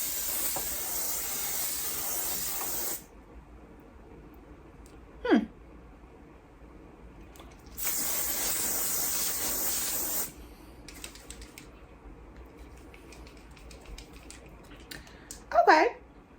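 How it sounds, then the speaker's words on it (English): Makeup setting spray misted from a fine nozzle: two long, loud hissing bursts of about three seconds each, close up, with brief shaking or handling sounds between them and the speaker talking quietly. "I never really used a setting spray that has this kind of nozzle."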